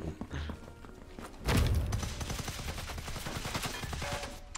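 Gunfire strikes players in the Sniper Elite 5 co-op mission Occupied Residence, a sudden loud burst followed by a dense run of rapid shots that keeps going under the noise.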